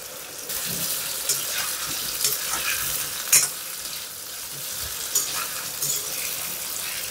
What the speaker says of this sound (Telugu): ఇలా హై ఫ్లేమ్లోనే ఫ్రై చేసుకుందాం